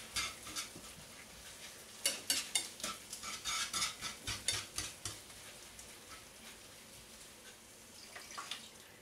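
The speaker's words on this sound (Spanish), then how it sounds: "Vamos poniendo un poco. Vamos removiendo." A spoon or whisk stirs milk into a roux for serrano ham croquettes, giving a steady run of scraping, clinking strokes against the pot, loudest in the middle and quieter at the ends, with no talking.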